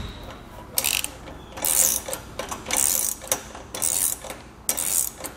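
Ratcheting straps being cranked down to secure V-style carriers on a Malone EcoLight Sport trailer: repeated bursts of clicking pawl and gear sounds, close and fairly loud, arriving in uneven strokes with short pauses between.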